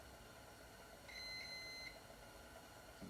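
A multimeter gives one faint, steady electronic continuity beep lasting under a second while testing the ignition on a 1947 GMC, heard alone over low background hum.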